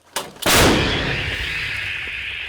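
A single booming shot from an M777 howitzer, preceded by a sharp crack, followed by a long rolling echo that slowly fades.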